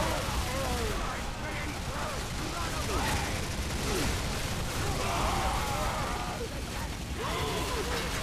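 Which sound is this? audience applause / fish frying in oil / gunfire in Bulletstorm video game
gunfire in Bulletstorm video game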